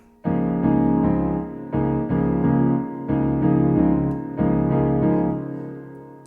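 Piano chords played in a repeating pattern, four sustained groups struck about every second and a half, full and fairly loud with no voices.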